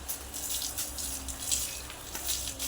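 Water pours in a steady, faint stream in a home kitchen while rice is prepared, a soft continuous splashing rush with no talking.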